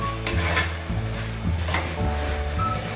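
Vegetables for veg kurma stirred and sautéed in a pan, a continuous loud sizzle broken by repeated scraping strokes of a spoon, close up and with no voices.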